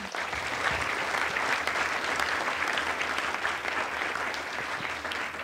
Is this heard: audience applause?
yes